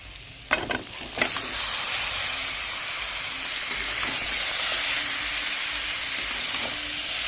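Mutton pieces tipped into fried spice masala with cumin powder send up a loud, steady sizzle that starts after a few clattering stirs and carries on close and continuous, with no talk.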